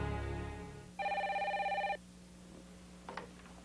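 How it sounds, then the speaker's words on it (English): A telephone bell rings in one clear, steady burst of about a second over faint background hum, followed by quiet room noise and a small clatter, with nobody speaking. "he received a phone call from his friend, Ken Johnson"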